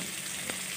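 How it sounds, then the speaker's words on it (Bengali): Fish seasoned with salt and turmeric fries in a pan, giving a close, steady sizzle with one small crackle partway through. "ভালো করে ভেজে নিলাম।"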